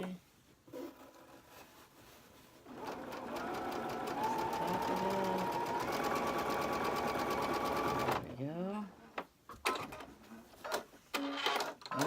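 A sewing machine runs steadily for several seconds as it stitches fabric for a crazy quilt block, close and fairly quiet, with brief talk and handling noises before and after.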